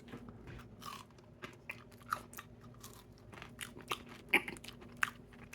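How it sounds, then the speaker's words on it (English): Crispy air fryer fries being bitten and chewed close to the mic, irregular soft crunches with a few sharper snaps and no speech. "we'll try the crispy fries"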